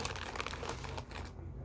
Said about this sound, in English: Not sure what the plastic bags are for, but plastic bags.